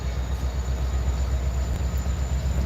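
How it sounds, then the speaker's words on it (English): A westbound freight train rolls past at night at Ooltewah, a loud, steady rumble of wheels and railcars with a constant low roar and faint rail hiss, close and continuous throughout. "our westbound train is fixing to leave Ooltewah"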